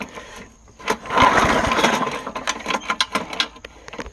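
A recoil starter cord yanked on a push mower, giving a rattling, ratcheting pull with clattering mechanism noise over a few seconds, close up, with no engine catching.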